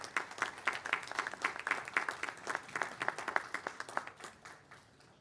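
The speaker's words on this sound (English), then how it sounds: "I can say it was interrupted with applause" Graduation audience applauding, distinct rhythmic claps from a modest crowd, fairly distant and steady before tapering off at the end.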